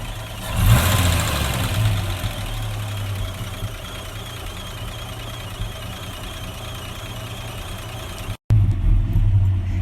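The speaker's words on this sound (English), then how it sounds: "this is what it sounds like when the engine is running under the bonnet." A 1950s Humber Super Snipe Series 2 engine idles steadily with the bonnet open, a close, even low rumble and hum that holds throughout, with a brief blip early on and a short dropout near the end.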